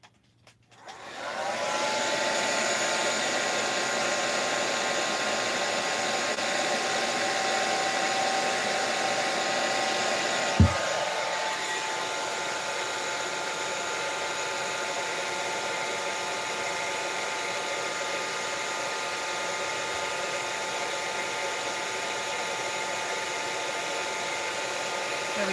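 A hair dryer runs steadily and loudly for the whole stretch, drying paint on a mixed media collage, with a brief knock partway through and a slight shift in its tone after it.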